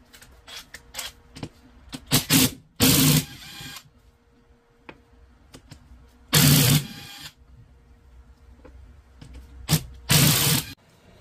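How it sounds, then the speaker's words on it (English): Three loud, brief power-tool bursts loosen the 17mm bolts holding the ring gear on a Mk4 Supra Torsen limited-slip differential, spaced apart with quieter tool clatter and handling in between. "let's go ahead and get this ring gear off. That's a 17mm for all of these bolts"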